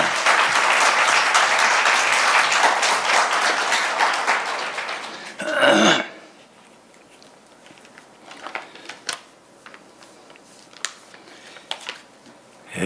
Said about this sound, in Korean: 우리 큰 박수로 다시 한번 환영해 주시기 바랍니다